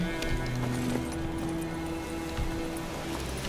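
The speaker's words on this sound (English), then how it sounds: "Luckily, Geralt can always count on his horse Roach to help him in his travels." Horse hooves clip-clop at a steady gallop in The Witcher 3, a fantasy role-playing video game, running continuously beneath a layer of sustained in-game music and ambience.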